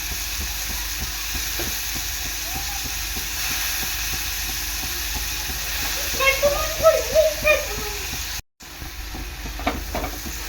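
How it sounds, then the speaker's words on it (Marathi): Dried fish (sukat) cooking in a pan covered with a lid, a steady low hiss and simmer heard close and continuously, with a voice speaking briefly partway through and a short cut to silence near the end. "आपली सुकट आहे ना झाकण देऊन पाच ते सात मिनिट आता शिजून घ्यायची आहे"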